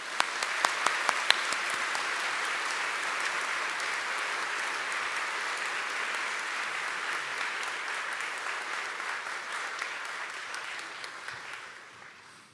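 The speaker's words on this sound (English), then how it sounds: "Let's give them a round of applause." A round of applause at the Fairhaven Baptist College and Academy commencement: a large audience claps in a steady, dense wash that holds for over ten seconds before tapering off at the end.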